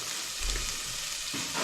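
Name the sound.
chili and bay leaves frying with onions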